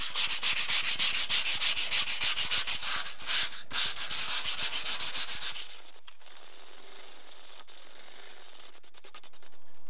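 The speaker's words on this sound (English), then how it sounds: "I'll use my tiny piece of 100 grit sandpaper and see what I can do." Drywall putty patch sanded by hand with a small piece of 100 grit sandpaper: close, rhythmic back-and-forth scratchy rubbing strokes, quickening into faster, lighter strokes toward the end.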